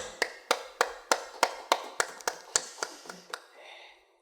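A church congregation clapping during a Wednesday prayer service, a dozen sharp, evenly spaced claps that slowly fade and give way to quiet room noise.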